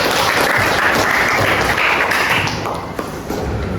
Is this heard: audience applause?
yes